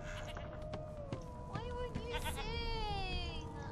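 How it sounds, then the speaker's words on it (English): Sheep bleat repeatedly in the video game Divinity: Original Sin 2, wavering cries rising over a steady background hum, fairly close with several overlapping calls. "Just sheep."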